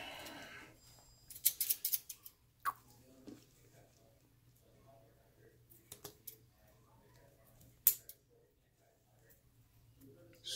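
A few sharp scissor snips and clicks in scattered bursts at a reptile expo in Las Vegas, close by and fairly quiet, with soft voices and rustling in between.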